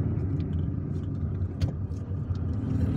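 A car engine rumbles steadily while driving along winding roads in Algiers, a constant low drone with road noise and no pauses, heard from inside the vehicle.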